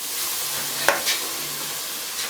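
Potato fries sizzle in a pan in a home kitchen, a steady close frying hiss broken by a couple of brief stirring knocks, with no talk.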